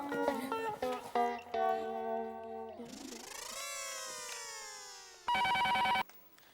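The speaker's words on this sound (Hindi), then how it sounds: "टप्पू, जेठा को फोन लगा।" A landline telephone rings during a call in a Hindi family comedy scene: a sequence of bright electronic tones, a rising sweep, then a loud steady ring burst near the end, heard alone without talking.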